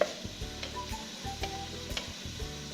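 Blended garlic hitting a hot pan for Swahili biryani, a soft sizzle with repeated stirring scrapes and light taps of the spoon, close and steady with no talking.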